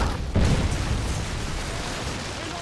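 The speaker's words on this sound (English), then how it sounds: "Missile inbound." A missile strike explosion in Call of Duty: Modern Warfare 3 during a Domination match, with a sudden heavy boom followed by a sustained rumbling roar that fills the short clip.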